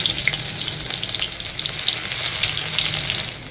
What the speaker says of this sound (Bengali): তেলটা খুব ভালো করে গরম হয়ে গেছে। এই অবস্থাতে আমি রসুনগুলোকে দিয়ে দিচ্ছি।